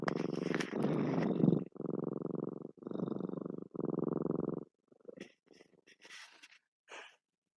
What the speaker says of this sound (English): Purring for everybody.